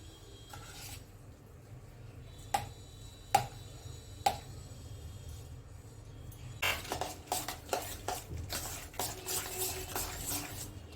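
A spoon scrapes and stirs milk cream in a pan while ghee is made. Soft rubbing is broken by a few sharp metallic clinks, then it turns into faster, busier scraping against the pan.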